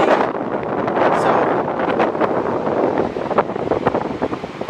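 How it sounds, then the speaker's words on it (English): Strong wind at a beach buffets the microphone with a steady roar and rough gusts, close and loud, with no voices. "it is very cold and windy"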